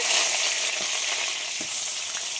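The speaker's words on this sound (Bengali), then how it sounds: "তেলটা গরম হয়ে গেছে, নুন হলুদ মাখিয়ে রাখা মাছের মাথাটা ভেজে নেব।" A fish head rubbed with salt and turmeric crackles in hot mustard oil in a wok, a steady broad sizzle with a few soft stirring knocks, close and alone without talk.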